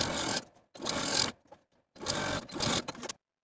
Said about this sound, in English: edge stitch close to that inner fold all the way from bottom to top for both center backs